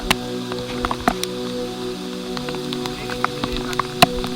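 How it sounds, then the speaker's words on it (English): Heavy monsoon rain on a mountain trek to Kudremukha, steady close pattering with scattered louder drops striking nearby surfaces, no voices over it. "it started to rain heavily"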